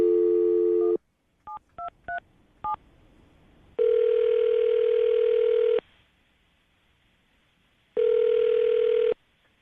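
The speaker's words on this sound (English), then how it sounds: "I'm going to dial the phone number right now" A landline telephone plays a steady dial tone, then a quick run of dialing beeps, followed by two long ringback tones separated by a pause of silence, clear and close with no talking.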